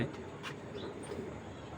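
Pigeons cooing softly in a loft, a low murmuring coo running through the short stretch with faint bird chirps over a steady background hum.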